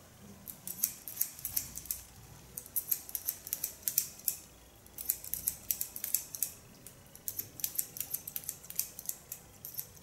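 Scissors snip through a man's hair, finger-length, in quick repeated clusters of crisp metallic cuts with short pauses between, close up and with no talking.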